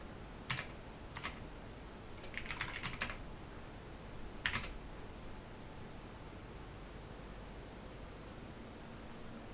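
Computer keyboard typing during a software install on Arch Linux, a few short bursts of clicking keys separated by quiet pauses, close but soft over a faint background hiss.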